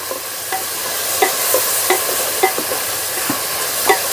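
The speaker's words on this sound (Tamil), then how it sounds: "நல்லா கிளறி விட்டுக்கலாம்." Tomatoes for vegetable biryani are stirred in a hot pan, a loud, even sizzle marked by regular scraping strokes of a spoon roughly every half second, close up with no voices.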